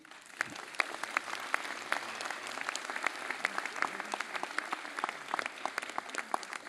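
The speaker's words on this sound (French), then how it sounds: "Je crois qu'on peut encore les applaudir." Sustained applause from an audience in a hall for young musicians at a mayor's New Year ceremony in Cenon, a steady wash of many clapping hands, fairly distant and even throughout.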